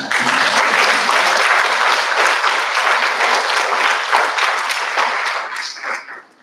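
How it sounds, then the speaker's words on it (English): A school-district audience in Winslow Township applauds an honoree, with loud, dense clapping from many hands that holds steady and then tapers off at the end. "Give a round of applause."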